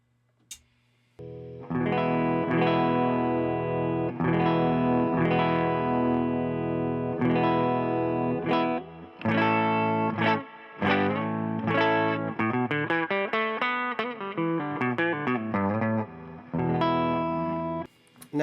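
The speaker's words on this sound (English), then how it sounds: "Now I'm going to activate the Ruthie pedal, and I will roll the volume back up until we hit sort of what would be about a unity level." Electric guitar run through a Ruthie fuzz and dynamic preamp pedal at roughly unity volume, playing loud sustained overdriven chords and single-note lines with a short quiet gap before the playing starts.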